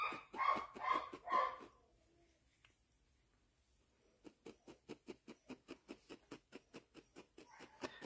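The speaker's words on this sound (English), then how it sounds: "the old dog is barking in the other room" An old dog barks from another room of a home, a short run of three muffled barks, then a pause, followed by a long, steady series of rhythmic woofs, somewhat distant with no talking.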